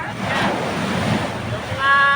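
Sea waves at high tide wash in a continuous roar mixed with wind buffeting the microphone, swelling louder near the end, where a distant tonal horn-like sound also rises.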